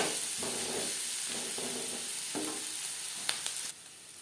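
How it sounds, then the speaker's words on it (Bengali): Onions frying in hot oil for a Bhola fish curry with tomato: a steady, close broadband sizzle with a few soft stirring clicks near the end before the hiss drops lower. "অবশ্যই পেঁয়াজ লালচে করে ভাজতে হবে"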